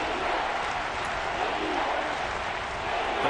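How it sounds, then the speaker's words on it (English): A dense, steady roar from a packed stadium crowd fills the Dome during a third-and-goal play of an American football game, continuous and loud with no clear breaks. "crowd here in the Dome making things difficult."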